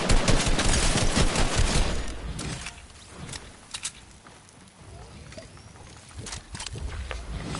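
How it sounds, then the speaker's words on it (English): Video game gunfire crackling in rapid bursts, loudest at the start, then sparser distant shots and pops, while players talk. "They're still shooting at us."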